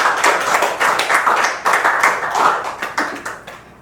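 An audience at a Buddhist dharma gathering clapping together in rhythmic bursts, close and lively, for a few seconds.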